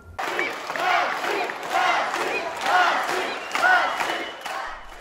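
A crowd of around a hundred young freestyle wrestling fans at a wrestling school in Dagestan shouts and cheers in repeated loud surges, each swelling and fading in turn.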